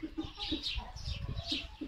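A small bantam hen clucks in a few soft, repeated calls, close but quiet, with faint low background noise between the clucks.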